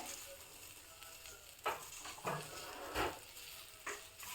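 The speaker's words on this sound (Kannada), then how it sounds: "ಒಂದು ಕಾಲು ಕೆ ಜಿಯಷ್ಟು ಬೆಂಡೆಕಾಯಿನ ಹೆಚ್ಕೊಂಡಿರೋದನ್ನು ಹಾಕ್ತಾಯಿದ್ದೀನಿ" Sliced okra, cut crosswise, sizzling as it hits a hot pan, a steady frying hiss punctuated by several soft stirring scrapes and bumps.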